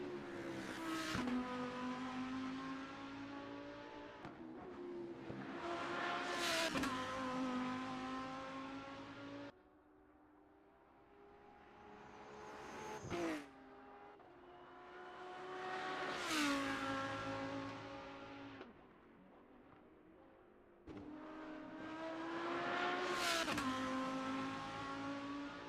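Lamborghini Huracan race cars lapping a circuit, engines rising and falling in long repeated revving sweeps with sharp gear-change breaks, the cars heard through onboard or trackside sound at moderate level.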